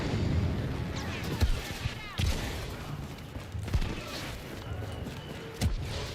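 Gunfire aimed at a tank in Star Wars Battlefront II, with scattered sharp shots and heavier booms punching through a constant noisy battle din.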